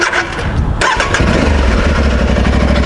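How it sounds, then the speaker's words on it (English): A 2022 Aprilia Tuareg 660 adventure motorcycle starts with a brief starter whir and catches, then settles into a loud, steady close-up idle. "I'll just start this baby up."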